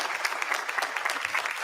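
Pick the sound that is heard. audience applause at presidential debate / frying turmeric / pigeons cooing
audience applause at presidential debate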